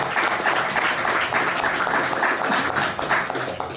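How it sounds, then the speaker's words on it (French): A crowd applauds steadily, dense clapping filling the whole stretch at a consistent, lively level. "Vous pouvez applaudir."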